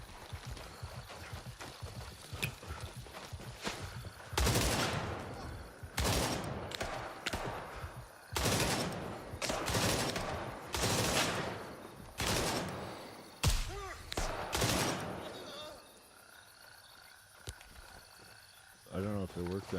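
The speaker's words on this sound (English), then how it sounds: "Going to flashbang these guys" Flashbang grenades and gunfire in the video game Grayzone Warfare: a run of loud, sharp bursts and shots in irregular clusters over quieter ambient background with insect-like chirps, ending in calmer moments.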